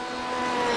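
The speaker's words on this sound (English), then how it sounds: "as Finzo continues around the course in his Porsche" A Porsche race car lapping Silverstone in a racing video game, engine holding a steady high whine that swells slightly as it accelerates, loud and continuous with no voices.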